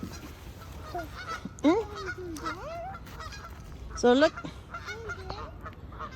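Ducks crossing a street give a few sharp honking quacks, two louder bursts standing out over a quiet outdoor background while someone talks briefly.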